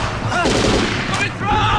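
Battle gunfire from a war movie about soldiers fighting werewolves, heard as dense overlapping shots mixed with shouting voices, loud and continuous across the short stretch.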